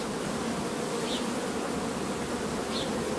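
Honeybees buzzing inside an open beehive, a dense, steady drone from many bees close by that continues unbroken with no voices.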